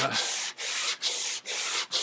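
Close, loud sandpaper rasps against wood in about five rhythmic back-and-forth strokes along the grain on an antique fern stand, each a gritty hiss with a brief break between.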